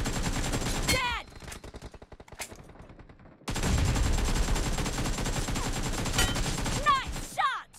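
Rapid gunfire in PUBG Mobile, dense automatic bursts of shots with a short quieter stretch in the middle, loud and close, mixed with game voice callouts.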